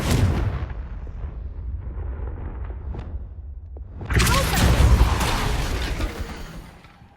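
A Confringo spell explodes in Hogwarts Legacy with a loud, sudden fiery blast and rushing whoosh that swells and then tails off, following a stretch of low rumbling game ambience.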